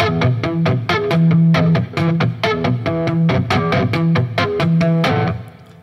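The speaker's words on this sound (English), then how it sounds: "So I started just to hit the strings percussively." Electric guitar strings struck percussively by hand in a fast, steady rhythmic pattern, each hit a sharp muted thump with a ringing pitched tone, loud and close, ending abruptly with no speech.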